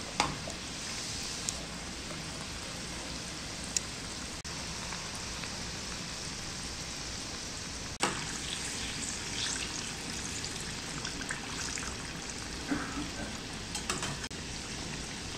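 Coconut and dry fruit karanji deep-frying in hot oil, a steady dense sizzle and bubbling crackle throughout, with occasional louder pops and no talking.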